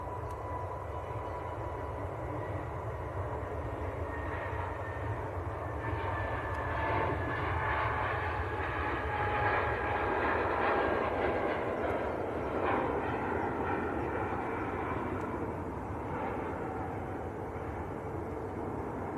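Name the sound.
British Airways A320neo taking off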